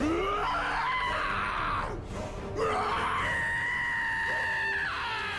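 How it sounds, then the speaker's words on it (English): A maniac orc in a video game screams loudly and without letup, in a harsh, strained howl that breaks off briefly and then goes on. "I've found that maniac orcs tend to just scream"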